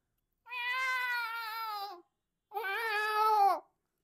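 A mimicry artist from Latur imitates a female cat's meows: two long, plaintive, whining mews separated by a brief silence, close up and clear, with no talking.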